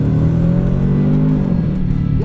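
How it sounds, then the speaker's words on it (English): A 2021 Range Rover Sport SVR engine roars loudly and close up, a deep sustained rev that dips slightly in pitch, with no talk over it. "The whole experience is dominated by the outrageous engine."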